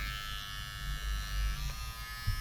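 An American Barber ZEROGAP cordless hair clipper, unplugged, buzzes steadily up close, a continuous low electric hum with slight wavering in intensity.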